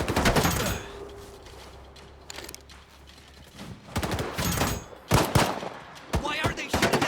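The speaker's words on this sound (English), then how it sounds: "Why are they shooting at us?" Bursts of video game gunfire in a swamp setting, sharp volleys and rapid shots cracking close and loud at irregular intervals, mixed with mechanical clatter and faint voices underneath.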